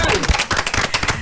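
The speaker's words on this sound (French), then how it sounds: "On applaudit pour elle." A small audience at a Miss Congo diaspora candidates event on a radio show claps for a candidate, loud close-up clapping in an uneven burst of about a second, with voices mixed in.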